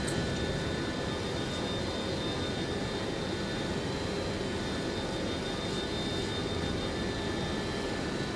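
Jet engines of a Boeing 727 freighter roar steadily as an in-game cruise sound in Microsoft Flight Simulator 2024, a dense continuous broadband drone with a faint whine layered on top, no talking.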